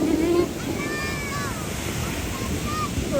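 A waterfall at Pundakit resort in San Antonio, Zambales, gives a broad, steady rushing roar of falling water, loud and continuous, and a voice briefly speaks over it at the start.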